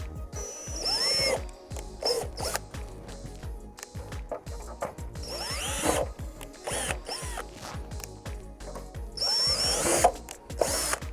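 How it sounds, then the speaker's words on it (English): Bursts of a power drill whirring and biting through the plastic front bumper of a 10th-generation Honda Civic, several spins of varying length with brief pauses, close and loud. "We're gonna drill through the bumper so that we can bolt this thing to the entire underside."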